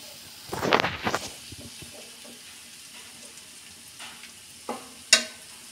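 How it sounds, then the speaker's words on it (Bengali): Meat and eggs frying in a pan, a soft sizzle underneath a few louder clinks and scrapes of stirring, with brief bursts near the start and a sharp clatter toward the end. "এই মাংসটা আমার ভেজে নেওয়া হয়ে গেছে, এখন আমি এর মধ্যে ডিম দিয়ে দেব।"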